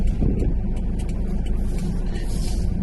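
A car slows and turns right at a closed junction on an advanced driving drive, its engine and road rumble steady and close throughout with no talking.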